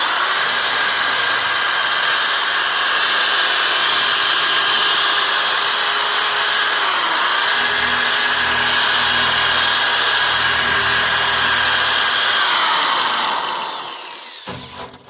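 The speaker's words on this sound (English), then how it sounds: "It's a drill. It's a wire brush. That's what it does." A drill driving a wire brush scours metal on a 1958 AMC Rambler Super, a loud steady whine with harsh scraping that runs nearly continuously for about fourteen seconds before winding down at the end.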